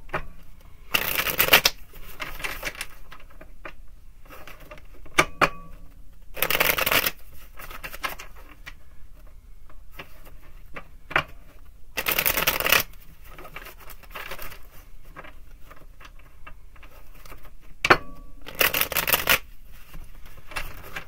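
Tarot cards being shuffled in several distinct bursts of riffling, close and crisp, with quieter gaps of light handling between them and no talk.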